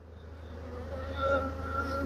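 Honeybees swarm around a hive frame that has been lifted from the super. Their buzzing is a close, continuous low hum that swells slightly partway through.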